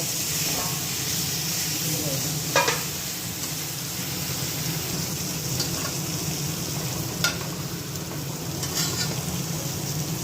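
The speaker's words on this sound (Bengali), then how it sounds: "আমি চিকেনটা মশলার সঙ্গে ভালো করে কষিয়ে নেব" Chicken stir-fried with spices for biryani gives a continuous close sizzle and hiss, with a few sharp spatula scrapes against the pan.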